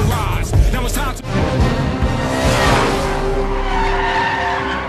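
Cars in a Fast & Furious street race screech their tires in loud, sliding skids over roaring engines, the squeals rising and falling close up.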